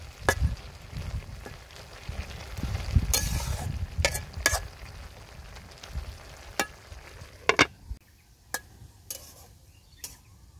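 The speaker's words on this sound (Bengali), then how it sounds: "শুটকি মাছটা আমি খুব ভালোভাবে কষে নিয়েছি" Dried shutki fish sizzles steadily in a hot pan for a lauki-leaf curry, a continuous crackling hiss broken by sharp spatula clicks and scrapes against the pan, close and alone with no voices.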